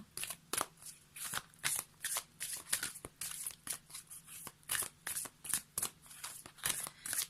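Oracle cards for a tarot-style daily reading shuffled by hand in quick rhythmic riffles, roughly two bursts per second, crisp and close throughout with no voice.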